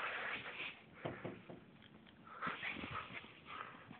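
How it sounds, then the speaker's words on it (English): A big dog moving about in the snow, sniffing and giving soft whimpers, fairly near and continuous over crunchy background noise, with no talk. "There's my dog."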